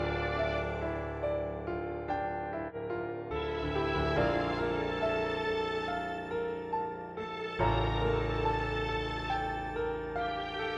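A piano plays alongside a layer of cello-like sustained strings in a UK drill beat production, with rich harmonic chords that shift every couple of seconds and a deep low note entering near the end, with no voices.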